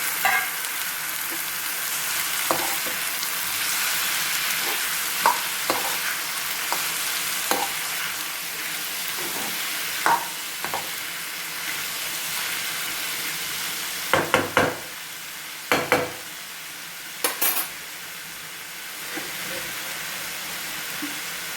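Onion and tomato frying in a pan for onion tomato thokku, a steady broad sizzle with intermittent scraping stirs of a spoon, occasional louder clacks against the pan, close by with no talking.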